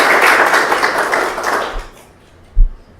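A round of applause from an audience at a seminar on Candomblé ceremonies, with a steady wash of clapping that fades out after about two seconds, followed by a single soft thump.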